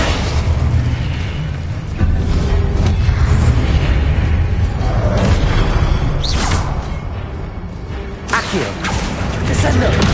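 Confringo explosive spell cast in the Hogwarts Legacy video game amid hectic combat, loud continuous booms and bursts with whooshing swipes and sharp cracks layered over a dense rumbling background.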